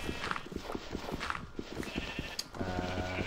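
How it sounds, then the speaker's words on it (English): Sheep bleat repeatedly in a Feed the Beast game world, several overlapping calls with a longer, steady bleat near the end, set against a busy background. "Push all the sheep in."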